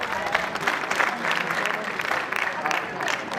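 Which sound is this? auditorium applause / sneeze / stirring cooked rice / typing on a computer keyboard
auditorium applause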